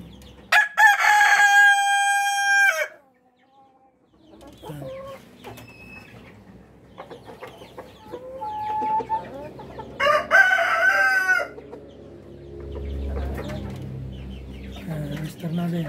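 A Rhode Island rooster on a breeding farm crows loudly twice, a long close crow at the start and another after a pause, with clucking and farmyard noise in between.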